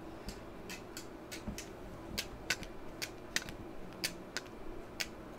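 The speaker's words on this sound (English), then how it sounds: "That's a little metal cart, metal piece rattling around in there." A small loose metal piece rattles inside a hard trading card case as it is shaken, giving scattered sharp ticks and clicks in uneven bursts, close and fairly quiet.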